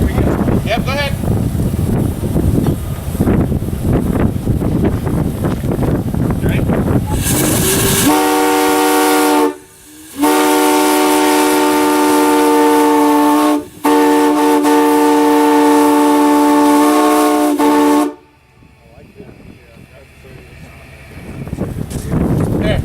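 A steam locomotive whistle on Lehigh & New England 611 sounds long, loud chime blasts, briefly cut off twice and then ending, after a stretch of rumbling train noise. Low talk runs at the start.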